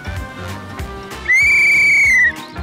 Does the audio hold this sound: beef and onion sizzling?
no